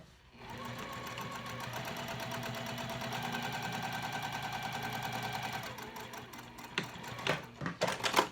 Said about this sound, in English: I'm going to back up and stitch the second long line